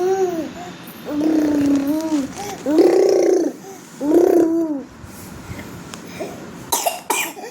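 Three drawn-out, wheezing coughs come in a slow row, each rising and falling in pitch, followed by quieter background noise and a few faint clicks.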